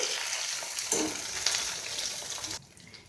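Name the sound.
green chillies and coriander leaves frying in oil while stirred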